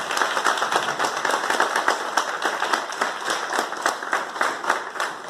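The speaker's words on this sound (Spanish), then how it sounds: "que lo recibamos siempre con un fuerte aplauso al doctor Sergio" A university audience applauds a speaker at a law faculty humanities event in Colombia, giving brisk, sustained clapping with sharp individual claps in a dense, even rhythm.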